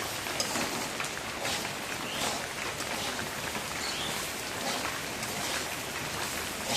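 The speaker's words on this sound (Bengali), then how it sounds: "এখন বৃষ্টি একটু জোরে আসছে" Rain falls in a rural Bangladeshi yard during a cooking session at a clay stove, a dense, steady wash of drops heard close with no talk.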